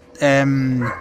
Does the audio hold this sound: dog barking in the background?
yes